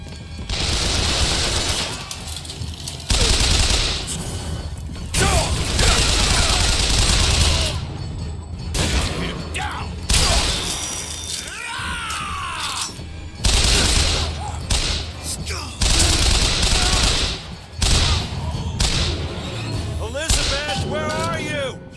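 Gunfire erupts in Bioshock Infinite, loud bursts of rapid automatic fire and heavy thumps in several waves separated by brief lulls, with shouting voices in between.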